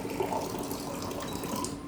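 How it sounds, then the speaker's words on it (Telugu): Water poured into a mango leaf chutney spiced with red chilli powder, a steady close splashing and trickling that runs the whole moment with no talking. "కొంచెం వాటర్ వేయాలండి"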